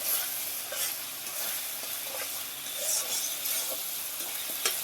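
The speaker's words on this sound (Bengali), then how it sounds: "মশলাটা আমার কষা কষা হয়ে গেছে, ডালটাও দিলাম, একসাথে মাখা মাখা হলো।" Lentils are stirred into a spice paste that has been fried down in a pan. Close, continuous sizzling mixes with scraping stirring sounds and occasional faint clinks, with no talk.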